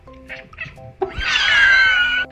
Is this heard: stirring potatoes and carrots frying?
no